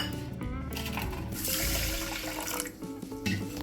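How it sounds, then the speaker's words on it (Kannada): Rice is swished and rinsed in water in a bowl while preparing gudanna, giving a continuous loud sloshing and splashing with little pause throughout. "ಈ ಅಕ್ಕಿ ಏನು ಮಾಡ್ತೀನಿ ರೀ, ಚೆನ್ನಾಗಿ ಒಂದು ಸಲ ತೊಳ್ಕೊತೀನಿ ರೀ"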